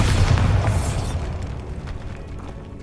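Bombarda explosion spell from the video game Hogwarts Legacy: a loud, booming magical blast with a heavy low rumble that swells in the first second, then trails into a long, fading roar of debris and echo.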